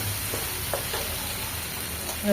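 Curry leaves fry lightly in hot oil, giving a steady, close sizzle with faint stirring throughout and no talk.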